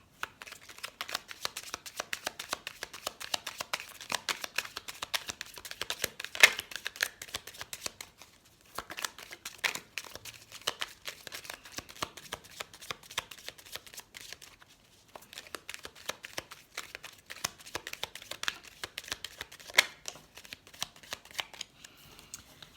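Tarot cards shuffled by hand, a steady dense riffling and slapping that runs on for long stretches, broken by two brief pauses, close and fairly quiet with no talking.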